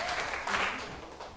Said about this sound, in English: Let's give her 3 big claps